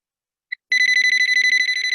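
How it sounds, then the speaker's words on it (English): A debate timer alarm gives one short beep, then after a brief pause rings in a rapid, continuous electronic trill that stays close and loud. "The alarm will ringing, and the last for the maximum 7 minutes of and 20 seconds, the alarm gonna be like this."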